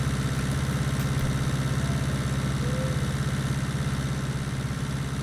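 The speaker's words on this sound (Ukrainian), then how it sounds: "ну ось навантажувач собі поїхав" A loader vehicle's engine in Farming Simulator 19 runs steadily and loud throughout, a continuous mid-low engine drone with a regular pulsing rhythm as the machine drives off, with no talk over it.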